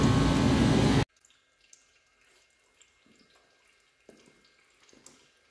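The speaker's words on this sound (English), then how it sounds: "while this antifreeze is draining" Antifreeze drains from the radiator of a 1999 Chevrolet 4x4 truck with a 4.8 engine onto the ground. A loud, steady pour cuts off after about a second, then scattered drips follow.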